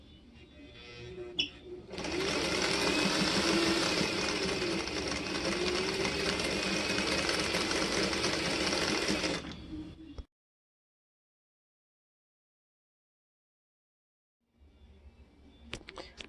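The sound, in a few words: sewing machine chain stitching patchwork pieces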